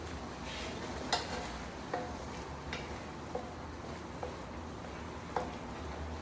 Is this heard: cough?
no